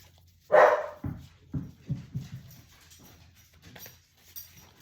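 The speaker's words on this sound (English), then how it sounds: "He's male and he's a little dog." A small male dog gives a loud close bark, then a run of short rhythmic yips and whimpers that fade to soft whines at the end.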